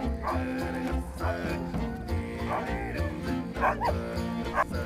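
Sled dogs yip and bark excitedly at fairly close range, with several short overlapping barks and whimpers repeating every second or so over a steady background of music.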